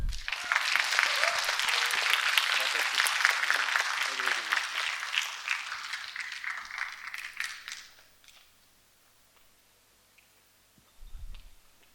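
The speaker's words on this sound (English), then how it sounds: "Let us give a huge round of applause" Audience applause at a hosted event welcoming a Buddhist nun, loud dense clapping for about eight seconds that fades out, followed by near silence and a brief low rumble at the end.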